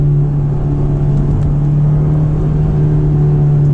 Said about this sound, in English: I've been going the speed limit and I'm just having a blast rowing through the gears.